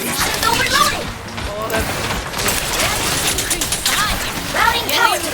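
D.Va's mech guns in the Overwatch video game fire in rapid bursts, with clattering impacts and mechanical effects, while a voice talks over the gunfire throughout.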